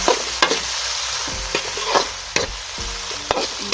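Dried salted fish (tuyo) and octopus fry in a pan with a loud, steady sizzle, punctuated every half second or so by the scrape and clack of a stirring utensil.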